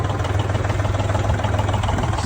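A tractor engine idles steadily while warming up on a muddy farm, a continuous low, loud rumble with a pulsing beat and no voices.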